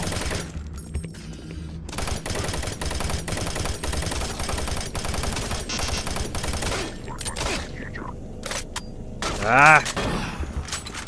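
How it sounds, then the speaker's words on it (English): Rapid gunfire from enemies shooting at the player in the video game Doom 3, loud bursts of shots crackling across several seconds, with a short exclamation from a voice near the end. "Who's shooting at me?"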